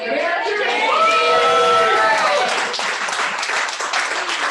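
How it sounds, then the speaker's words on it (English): Clapping at a 2020 university family business center member recognition event, a mix of hand claps and crowd noise with some voices and a few cheers running throughout, fairly loud and steady. "Now I'm just clapping for myself."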